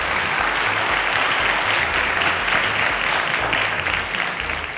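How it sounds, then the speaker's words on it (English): Steady studio audience applause for a contestant on a quiz show, full and even throughout, with no talk over it. "A round of applause to Taiwo."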